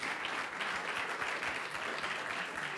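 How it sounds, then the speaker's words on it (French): An event audience claps for the organizers in a continuous, fairly faint patter of many hands, steady throughout with no talking over it. "On peut les applaudir évidemment."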